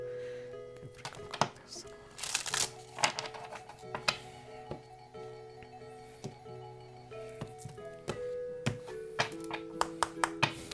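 Oracle cards are shuffled and handled during a tarot reading, producing scattered soft taps, slaps and flicks close by, with light background sounds throughout.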